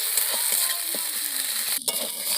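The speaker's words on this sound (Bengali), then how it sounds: "আদা রসুনটা ভালো করে নেড়ে চেড়ে ভালো করে ভাজা ভাজা করে নেব।" Ginger garlic paste being stirred and fried in oil gives a dense, hissing sizzle. Light taps and scrapes of a spoon sound throughout, with a brief sharp clatter near the end.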